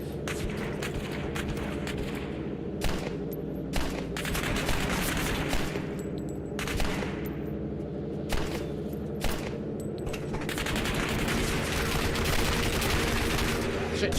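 Shotgun and pistol fire in the Turning Point: Fall of Liberty video game, with irregular bursts of sharp shots, some clustered and some spaced apart, over a constant rumbling battle backdrop.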